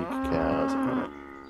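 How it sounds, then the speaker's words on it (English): A cow moos in the farming game Homestead, one long drawn-out call with a steady pitched tone lasting about a second, close and fairly loud, then fading into quiet game ambience. "Don't be weak, cows."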